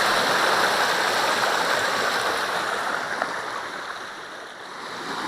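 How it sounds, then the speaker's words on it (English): A fast-flowing stream in Los Padres National Forest, crossed on foot, rushes as a steady broadband roar, loud and close, easing slightly toward the end with no talk. "this water's flowing pretty fast. I think I'm gonna have to get my feet wet"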